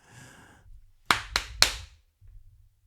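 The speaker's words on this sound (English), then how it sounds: "sorry for the clapping, sorry for the noise" Three sharp hand claps in quick succession, close and loud, framed by brief low murmurs of a voice before and after.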